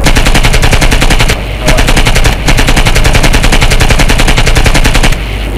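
Loud, sustained automatic gunfire from the video game Project IGI rattles in rapid bursts, broken by a couple of brief pauses between volleys.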